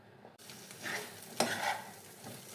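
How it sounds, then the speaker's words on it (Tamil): Sweet potato pieces sautéing in a pan with mustard seeds, urad dal and curry leaves, a steady soft sizzle with stirring scrapes and one sharp clink partway through. "வெறும் கடுகு உளுத்த பருப்பு கருவேப்பிலை மட்டும் போட்டு வதக்கிட்டு இந்த காயை போட்டுடுங்க"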